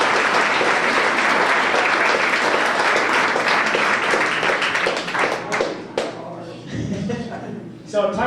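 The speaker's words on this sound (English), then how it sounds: "Let's give Hassey a round of applause." Applause from a banquet audience for an honoree fills the room with dense, steady clapping. It thins out toward the end, leaving scattered claps and a little laughter.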